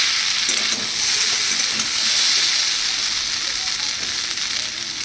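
Potatoes fry in a little oil with poppy seeds, giving a continuous dense sizzle and hiss at steady loudness, close up, with no talking.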